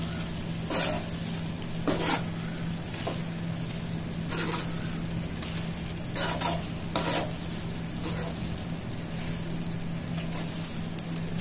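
Lemon pickle mixture with amchur powder stirred in a pan over a low flame, a steady background sizzle broken by several distinct scraping strokes of the spoon, close and moderately loud with no talking.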